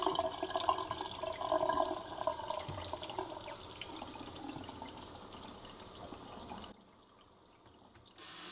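Steady rush of running tap water onto taped glass, with hiss and splashing, fairly close, stopping abruptly near the end and leaving quiet room tone.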